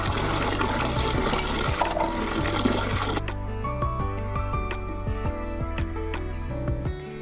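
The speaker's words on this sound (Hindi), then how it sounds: "तो मैं अभी इसको धोऊंगी थोड़ा थोड़ा करके, मैं अभी धोऊंगी इसको, क्योंकि एक साथ धोया नहीं जाएगा" Mustard greens and spinach are washed by hand in water, first a loud rushing pour, then sloshing, dripping and splashing as the leaves are swished and lifted, close up.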